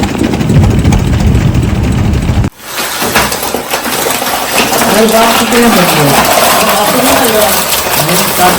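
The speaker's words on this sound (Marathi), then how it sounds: "निलेश कोळीची बोट चालू" A fishing boat's engine out on the deep sea during lobster net fishing gives off a loud, constant drone, with people talking over it.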